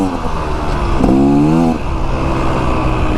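A 2024 Beta Xtrainer dirt bike on its first break-in ride, its engine a loud, close drone that rises briefly in pitch as the throttle opens, then settles back to a steady run with no talk.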